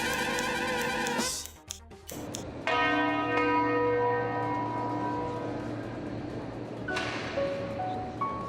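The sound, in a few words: church bells tolling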